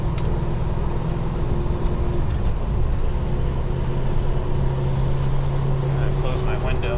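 A loud 1972 Dodge Charger with a 5.9L Magnum V8 cruises on a warm Florida road, its deep engine rumble steady and close with a droning tone throughout.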